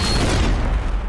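A single gunshot in a video game lands as a loud, close booming blast that decays over about a second.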